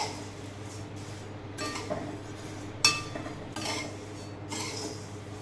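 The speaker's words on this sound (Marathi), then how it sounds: "हे पोहे एकदम कमी गॅसवर भाजून घ्यायचे।" Flattened rice (poha) dry-roasting in a pan over a low flame, a faint scratching and stirring of the flakes with occasional metallic clinks of a spoon against the pan.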